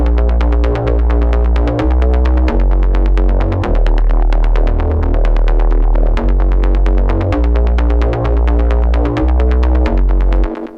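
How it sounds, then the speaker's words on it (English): Processed synth bass sent through a filter and then pushed up by a limiter, a loud, sustained, throbbing low-end line with rhythmic pulses running throughout, playing alone without any voice over it. "So together, the bass sounds like this."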